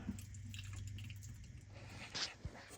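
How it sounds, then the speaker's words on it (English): Fluid from an SN95 Mustang GT rear axle drips and trickles into a drain pan, quiet close-up splashes over a low background hum, with a couple of sharper drips near the end. "Shouldn't take very much to get that cover out and let that lovely fluid drain in."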